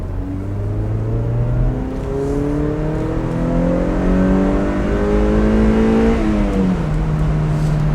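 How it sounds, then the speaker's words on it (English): A Mazda MX5 engine pulls loudly and steadily up through its long rev range from inside the car, the pitch climbing smoothly before a gear change drops it and the climb begins again. "the rev range is so long, it just goes on and on and on, and you change gears, you do it all over again"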